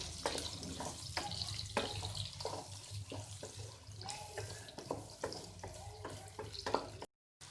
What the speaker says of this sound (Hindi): प्याज डालेंगे तेल में। प्याज को फ्राई करेंगे।